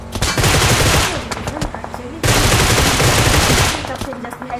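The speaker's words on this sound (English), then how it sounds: "Lots of gunfire coming towards El Chapo there" Sustained automatic gunfire rattles through a PUBG esports match, dense bursts of rapid shots filling nearly the whole stretch with only a brief break midway, with commentary voices faintly beneath.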